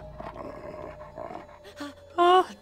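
In the Lego Harry Potter video game, a dog lets out a single short, loud roar near the end, after a stretch of quieter, scattered game sounds.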